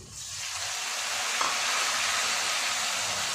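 A steady, loud sizzle of green chili paste frying in hot oil, a constant hissy crackle with no voices.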